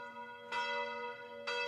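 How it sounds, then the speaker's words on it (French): Abbey church bells ringing out across a mountain valley, two clear resonant strikes about a second apart, each leaving a long humming tone, heard alone and somewhat distant. "les cloches rythment les journées."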